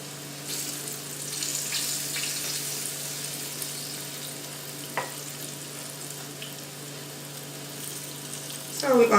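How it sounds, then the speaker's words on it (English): Vegan country fried steaks sizzle steadily in a pan, a continuous close hiss of frying with a brief scrape partway through and a louder clatter at the end. "So we're going to let them sizzle a little more and brown a little more on both sides."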